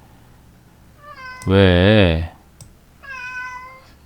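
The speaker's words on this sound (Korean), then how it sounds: "이놈의 고양이들이 오늘따라 시끄럽네." Two drawn-out cat meows, the first loud and wavering, the second softer and shorter, with a brief spoken word just before.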